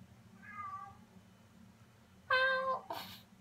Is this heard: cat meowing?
yes